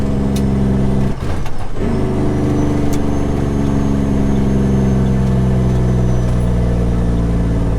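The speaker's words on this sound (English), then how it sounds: "Jake brake engaged" A big truck with its Jake brake engaged: a loud, steady, harmonic engine drone heard from inside the cab, with a brief rough burst near the start and the low roar holding throughout.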